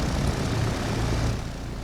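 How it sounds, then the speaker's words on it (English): Steady propeller engine drone of dive bomber aircraft in the naval strategy game Victory at Sea Pacific, a broad continuous roar that holds level and eases slightly toward the end, with no voices. "I like to hear their little engines."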